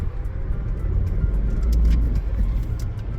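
A Mahindra TUV 300 with an aftermarket cruise control rolls along in first gear, its engine giving a low steady rumble inside the cabin with faint road noise and small ticks, and no talking.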